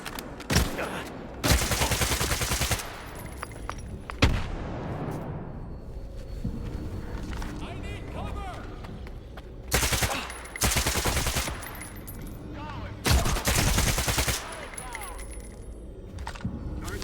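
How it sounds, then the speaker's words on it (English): Heavy bursts of automatic gunfire in Stalker 2, fired through a wall, come in several loud clusters separated by quieter stretches with clinking, echoing debris and faint game voices in between. "You gotta shoot through the wall."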